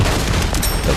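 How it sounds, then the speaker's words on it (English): A purple shotgun fires in the VR battle royale Population: One, one sharp close blast with a brief rumbling tail. "The purple shotgun."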